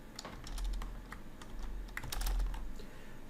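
Code is typed on a computer keyboard in a quiet room, with a soft, uneven run of key clicks and a few heavier keystrokes.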